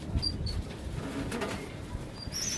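Pigeons in a loft give soft, low coos over a hum of background noise, faint and close by, with a light flutter and no voices.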